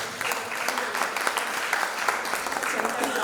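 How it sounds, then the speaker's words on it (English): Applause from a group at an in-house teacher training session, a steady dense patter of clapping that fills the whole stretch at moderate level with no voices over it. "A big round of applause for her."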